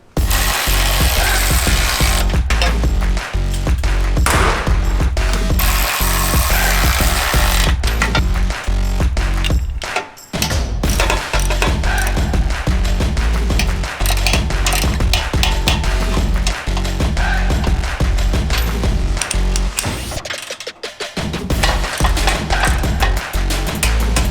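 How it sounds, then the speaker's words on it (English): A wrench cinching the bolts of an EVO Quarter Pounder Stubby front bumper with WARN on a Jeep JL Wrangler: loud, close, continuous metallic clicking and grinding for over twenty seconds, with short breaks near the middle and end and no talk. "We'll have to come back and tighten it up more, but right now I'm just cinching them in."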